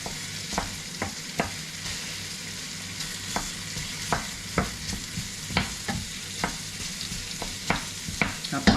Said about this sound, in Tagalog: Nagisa muna ako ng sibuyas, bawang at luya